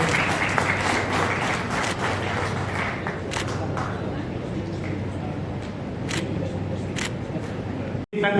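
An audience at a gathering applauds in a steady wash of clapping that lasts several seconds with scattered sharper claps. Voices murmur underneath before the sound cuts off briefly near the end.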